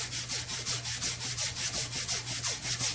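An oil cooler adaptor surface on a 4.6L engine is sanded smooth with 100 grit sandpaper, fast, even back-and-forth strokes rasping close up in a steady rhythm.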